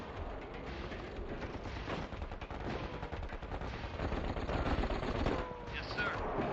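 Dense gunfire in a KKND real-time strategy battle, with rapid machine-gun bursts and shots rattling continuously and loudly under faint talk, alongside explosions.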